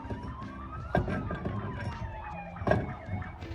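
An ambulance siren wails and sweeps up and down in a residential neighbourhood, moderately loud and somewhat distant, with a few knocks or clunks nearby and no talking.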